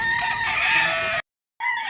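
A rooster crows loudly and close at a rural chicken market in Barili, Cebu, one long strained call that cuts off abruptly, followed by the start of another crow.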